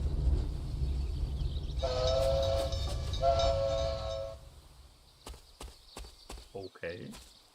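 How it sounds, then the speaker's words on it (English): A train rumbles past in the hunting game Deer Hunter 2005, with a loud, steady rolling noise and a sustained horn-like tone in the middle. The rumble then fades, leaving scattered softer sounds. "I can hear a train."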